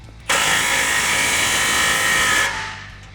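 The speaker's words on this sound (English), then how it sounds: "we're using our 15mm socket to tighten down this clamp" A 15mm socket on a powered driver tightens an exhaust clamp on a Jeep Gladiator, one loud continuous whirring burst lasting about two seconds, then winding down.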